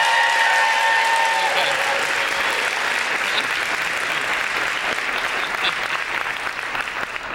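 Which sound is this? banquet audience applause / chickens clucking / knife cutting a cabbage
banquet audience applause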